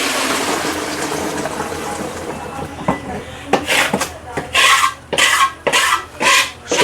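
Sugar syrup pours into the tank of a batasa-making machine at a Kolkata wholesaler as a steady liquid rush. It then breaks into uneven gushing bursts, and voices come and go over it.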